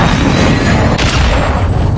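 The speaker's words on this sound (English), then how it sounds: "Target 3-1, launch cruise missile." A cruise missile strike in Modern Warfare 2 lands as one loud, continuous deep rumbling blast at close range, with a sharper crack about midway through the roar and no voices over it.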